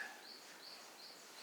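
Birds sing outdoors beyond a meditation hall, a faint, distant series of repeated high chirps spaced about every third of a second over quiet background hiss.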